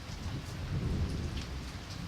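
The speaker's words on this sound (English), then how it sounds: "It was thunder." Thunder rumbles low and continuous through a steady rainstorm, with rain pattering on surfaces throughout and no voices.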